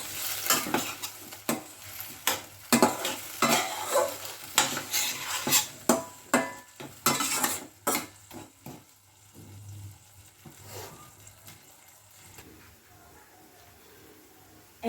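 Melted jaggery with jujube berries stirred in a pan, a spoon scraping and clacking in quick repeated strokes over a soft sizzle, the strokes thinning out and fading toward the end.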